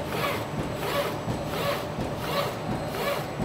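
An FL5 single-pass carton production line cuts and chops waste, producing a repetitive rhythmic swishing and rasping cycle roughly every 0.7 seconds, steady and moderately loud with broadband machine noise between strokes.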